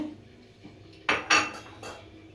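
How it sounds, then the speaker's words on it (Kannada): Dry pasta, about 200 grams, clatters into a pot of water in a home kitchen, giving two sharp close knocks followed by a softer rattle, with no talking. "ಪಾಸ್ತಾನ ಈಗ ಇದರಲ್ಲಿ ಹಾಕೊಳ್ತೀನಿ"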